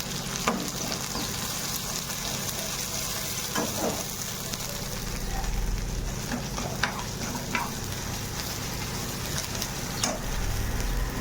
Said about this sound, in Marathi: थोडंसं खोबरं भाजते इकडं.